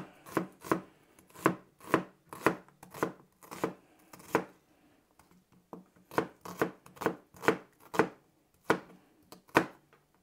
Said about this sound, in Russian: Поэтому просто перерезаем перьями все луковицы.